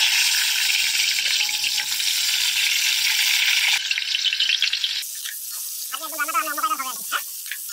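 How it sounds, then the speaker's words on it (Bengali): Papaya pieces frying in oil in a jungle outdoor cooking setting, a loud steady sizzle that fades partway through, then quieter crackling as a voice speaks briefly near the end. "এই যে পেঁপেটা এটাকে একটু তেলে ভেজে নেবো।"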